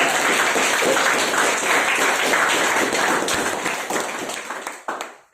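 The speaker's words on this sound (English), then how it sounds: "let's have a big round of applause for both speaker and" An audience applauds with dense, continuous clapping that holds steady and then tapers off, ending in a few scattered claps.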